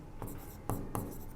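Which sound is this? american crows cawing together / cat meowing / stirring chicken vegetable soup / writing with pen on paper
writing with pen on paper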